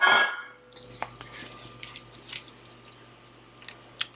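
Chopped parsley is stirred through braised beef in a pot, giving soft scattered clinks and wet scrapes of a utensil against the pot, with a few brief louder knocks near the start and end.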